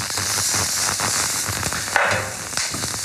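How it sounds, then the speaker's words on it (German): Beef roulades sear in a hot frying pan, giving a steady loud sizzle and crackle with a few brief stir scrapes, no speech over it. "Dann tue ich die jetzt schnell anbraten."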